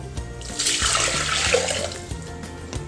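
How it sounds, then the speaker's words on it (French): About 300 g of water pours into a Thermomix bowl for truffle risotto as a loud, close, steady gush lasting over a second, with light mechanical knocks before and after. "Ensuite, on verse 300 g d'eau"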